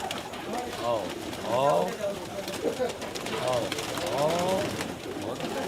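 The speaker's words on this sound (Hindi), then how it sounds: "ये कबूतर घर में है" Pigeons cooing nearby inside a house in Delhi in soft, rolling bursts, two pairs of throaty coos separated by short pauses.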